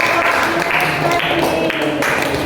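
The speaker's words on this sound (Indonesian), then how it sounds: "Kita berikan aplaus untuk kelompok" A classroom of students applauds a student group, a continuous loud patter of many hands clapping at once, with voices mixed in.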